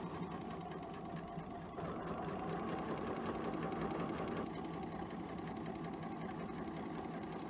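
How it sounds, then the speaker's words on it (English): A sewing machine runs steadily, stitching fabric along a marked line corner to corner, its motor whirring with a fast mechanical needle rhythm close by, rising slightly partway through and continuing without speech. "And then I'm going to sew on the line from this corner to this corner."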